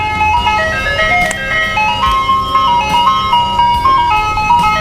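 A loud ice cream truck jingle plays nearby, a bright repeating melody of chiming notes over a low vehicle rumble, with a faint voice briefly audible.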